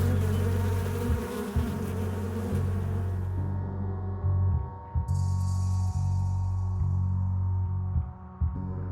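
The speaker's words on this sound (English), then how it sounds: "Chittering and buzzing intensifies as more flies crawl out of their nest." Flies swarm from their nest in a rocky stairway setting, a dense insect buzzing and droning with low throbbing hum and a higher chittering hiss joining partway, loud and continuous with no talking.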